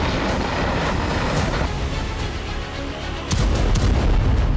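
An Indian Pinaka multi-barrel rocket launcher fires in loud, roaring bursts, with a continuous rushing blast and a sharp fresh surge partway through as another rocket leaves.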